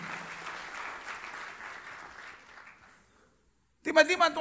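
A church congregation gives a sermon's call for applause, a broad wash of clapping that gradually fades to silence before a voice abruptly starts.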